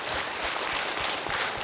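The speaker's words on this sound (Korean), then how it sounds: "박수로 맞으세요" A Korean lecture-hall audience at a Buddhist monk's Q&A talk claps to welcome a questioner, a steady dense wash of applause lasting throughout without speech.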